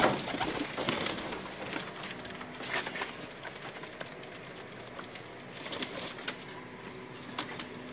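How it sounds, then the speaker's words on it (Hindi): Pigeons coo softly and repeatedly at a loft in Lahore against a steady outdoor hiss, with occasional faint flutters. "बहुत शानदार कबूतर आपको दिखा रहे हैं।"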